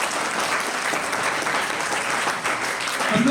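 Audience at a World Environment Day event in India breaks into loud, steady applause, dense clapping sustained throughout before fading at the end.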